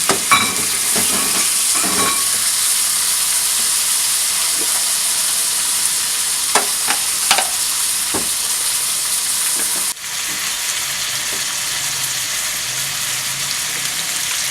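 Tomatoes sauté in a pan for palak gosht with a steady hiss of frying. Clicks and scrapes of stirring come early, then the sizzle settles into a quieter, even wash.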